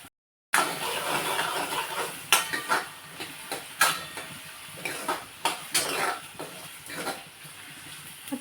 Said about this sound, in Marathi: कांदा आपल्याला व्यवस्थित असा परतून घ्यायचा आहे